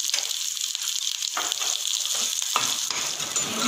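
Paneer and spices frying in ghee in a pan, a loud, close, continuous sizzle with bursts of stirring and crackling that swell and ease throughout.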